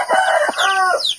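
Chickens crowing and clucking close by, a rooster's drawn-out call layered over busy hen chatter, loud and continuous.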